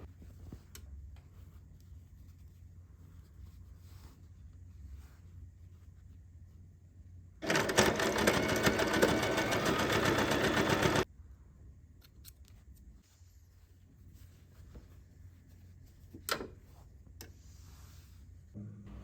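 A sewing machine top-stitches a seam allowance 1 mm from the edge through lining and main fabric of a needle case, a single loud burst of fast steady stitching lasting a few seconds amid quiet handling noises.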